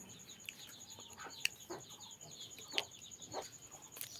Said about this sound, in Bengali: এই মুরগি বাইরে গেছে